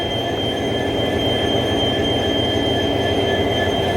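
A coal-fired steam train stands at Mariani Junction in Jorhat, Assam, giving off a steady, loud, close rumble with sustained whining tones throughout and no voices.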